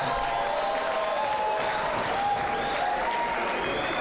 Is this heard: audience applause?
yes